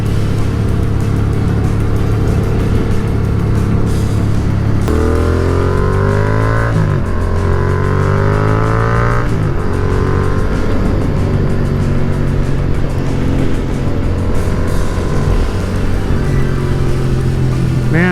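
A 2019 Yamaha MT-07 motorcycle engine runs steadily and loudly throughout, with rising and falling revs as the rider shifts through gears under strong wind noise on a sunny road.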